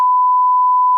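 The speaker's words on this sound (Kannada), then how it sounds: "ಕಟ್ ಮಾಡಿ ಬೀಪ್ ಬೀಪ್ ಹಾಕು ಪ್ಲೀಸ್" A steady censor beep tone edited over speech runs as one continuous, loud, unbroken note for about a second, ending in a brief burst of noise.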